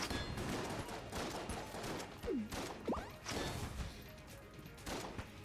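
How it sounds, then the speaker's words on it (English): Rapid video game gunfire from Enter the Gungeon crackles in dense bursts alongside crashes and whooshing effects, moderately loud throughout. "I don't want to be firing at this one, but it's the only one I can fire at right now."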